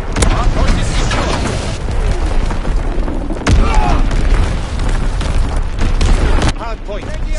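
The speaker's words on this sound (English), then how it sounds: "Enemy bomb incoming! Get to cover!" Bomb blasts in the video game Call of Duty WWII: loud, deep booms and rumbling explosions roll on and off, with shouting voices over the din.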